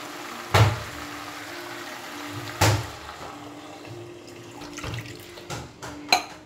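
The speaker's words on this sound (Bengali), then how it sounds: "আমি এবার এর মধ্যে জল দিয়ে দেব।" Water is poured into a pan of mustard curry on the stove, a close, steady trickle with a couple of sharp clinks of utensil against the pan and some soft handling knocks near the end, with no talking.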